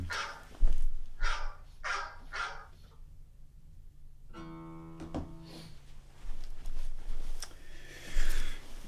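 A dog barks several times in quick succession, followed by a brief tonal whine and some faint rustling in a quiet room.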